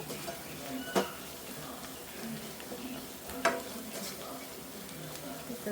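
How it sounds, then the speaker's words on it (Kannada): Field beans frying in oil over a low flame, a faint continuous sizzle with two sharp spoon taps against the pan, quiet and close. "ನೆಕ್ಸ್ಟ್ ಇದಕ್ಕೆ ನಾವು 1 ಮಿನಿಟ್ ಸಣ್ಣ ಉರಿಯಲ್ಲಿ ಇದನ್ನು ಫ್ರೈ ಮಾಡ್ಕೊಳ್ಳೋಣ"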